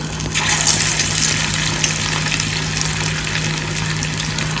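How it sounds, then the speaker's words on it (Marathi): Chicken keema bhaji, minced-chicken fritters, dropped into very hot oil in a pan, producing a loud, steady, unbroken frying hiss with no talk. "आता आपण ही तळायला घेऊया आपलं तेल एकदम कडकडीत तापलेलं आहे"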